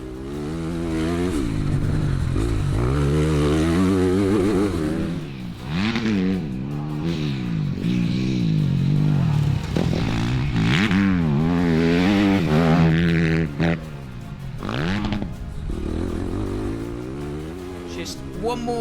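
A Kove 250 dirt bike revs hard around a lap, its engine rising and falling through gear changes and throttle blips, loud and close, with someone talking over it.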